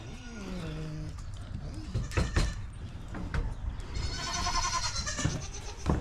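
Several female goats bleat loudly nearby, their wavering cries overlapping against a busy barnyard background.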